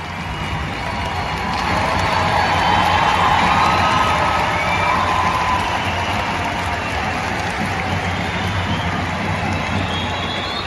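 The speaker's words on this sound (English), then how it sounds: "That's standing ovation." A large crowd in the UK giving a standing ovation, with sustained applause, cheering and shouting that holds steady and loud throughout, filling the space like a distant arena roar.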